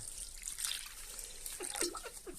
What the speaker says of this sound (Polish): może do tego zboża byśmy zalali wody